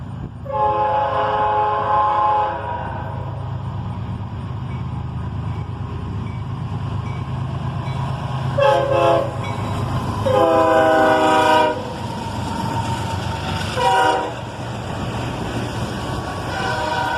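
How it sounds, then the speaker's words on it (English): Short horn blasts from a northbound CSX auto rack train led by a pair of ES44DC locomotives, sounding over a steady rumble of the passing train, with a couple of separate blasts near the end. "a short horn salute from this train as well, as a pair of ES44 DCs lead the auto rack train northbound."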